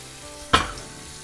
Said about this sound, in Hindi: अब हम इस ग्रेवी को थोड़ा पकाएंगे।